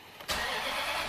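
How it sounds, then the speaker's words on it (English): A Dodge truck engine cranks and catches suddenly, then settles into a steady, fairly quiet running rumble. "The truck starts and runs"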